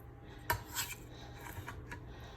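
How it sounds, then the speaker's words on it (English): A knife chops raw chicken on a cutting board for a curry chicken dish. A few faint, scattered knocks and scrapes sound close by, with one sharper hit near the start. "I'm gonna chop it"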